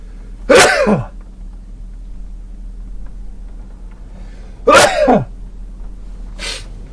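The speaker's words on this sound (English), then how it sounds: "I'm going to sneeze." Two loud sneezes several seconds apart, then a softer third one, over a faint steady hum with no talking.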